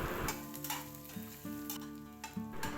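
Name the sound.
sautéing onions and green chillies in oil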